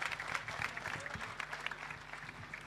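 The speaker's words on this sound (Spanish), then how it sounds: "un fuerte aplauso para Miguel" An audience at a Nazarene parody troupe performance claps for Miguel, giving brisk, crackling applause that holds steady, faint, with a few louder individual claps standing out.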